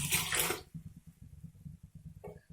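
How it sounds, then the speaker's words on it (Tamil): Water splashes loudly into a pot of sambar with broad beans and brinjal for about half a second, then gives way to quieter low cooking noise. "நான் ஒரு கப்பு ஃபுல்லாக தண்ணி ஊற்றிருக்கேன்"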